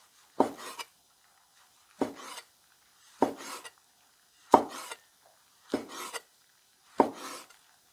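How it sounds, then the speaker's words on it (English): A knife slicing beef thin for Khmer-style pho, six crisp separate strokes about a second apart, each a short scraping cut ending on the board, close and clear with quiet between. "Slice it thin too."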